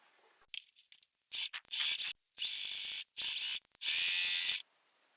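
Sewing machine stitching the hem of a fabric face mask runs in several short whirring bursts separated by pauses, and the bursts grow longer toward the end.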